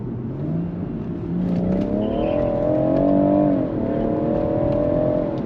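A BMW M140i's 3-litre turbocharged straight-six engine revs hard and climbs in pitch as it accelerates with wheels spinning in fourth gear, holding a strained, rising drone before easing slightly.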